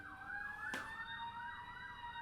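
Emergency vehicle siren wailing steadily in a rising and falling sweep, loud and continuous, with a brief sharp burst partway through and no talking.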